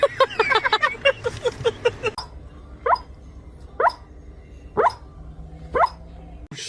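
A dog gives soft, breathy whisper barks, about five short huffs spaced roughly a second apart, after a stretch of rapid whimpering yips at the start, close and clear.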